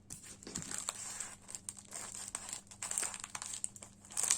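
Crinkling and tearing of plastic wrapping as a package holding a craft stamp is opened, a close stream of rustles and crackles with sharper crackles near the end.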